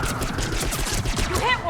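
Rapid automatic gunfire fills a battle in the video game Mass Effect 3 Legendary Edition, with a quick rattling volley of close shots continuing throughout the short burst.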